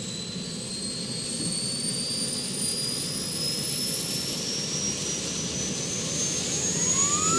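An F-18 jet engine spooling up with a steady roar and rising whine tones, loud and continuous with no talk.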